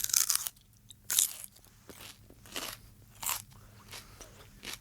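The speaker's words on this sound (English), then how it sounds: "Loudly chewing, crunching, slurping, or biting foods, drinks, or gum." Loud close-up crunching and biting of food, sharp crisp bursts recurring in an uneven rhythm between quieter chewing, with no voices.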